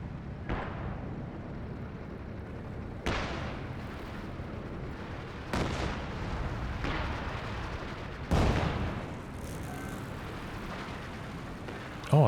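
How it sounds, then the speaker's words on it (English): A Stuka walking barrage in Company of Heroes 2, with four heavy artillery blasts landing a few seconds apart, each booming impact trailing into rumble over continuous battlefield noise. "that was a really good walking Stuka barrage"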